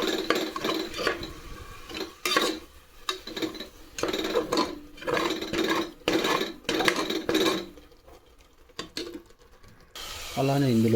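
Masala and water being stirred in a pressure cooker for chicken biryani, with repeated scraping, clinking strokes of a spoon against the metal in irregular bursts while someone talks over them.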